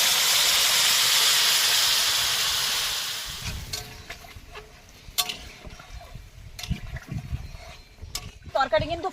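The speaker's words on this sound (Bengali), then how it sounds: "তরকারি কিন্তু ফুটেও গেছে আর ওলও সিদ্ধ হয়ে গেছে।" A pot of curry with elephant foot yam boils at an outdoor picnic, first as a loud steady steamy hiss that fades after a few seconds into scattered clatter and knocks, with voices nearby.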